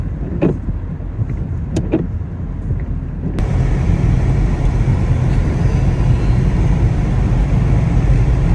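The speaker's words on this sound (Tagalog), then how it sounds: "medyo maingay yung sasakyan ko kasi naka-on yung aking demister" Inside a car on a foggy, 4-degree morning with the demister fan running: a steady low rumble and airy hiss that jumps louder and brighter about a third of the way in, then holds constant with no talking.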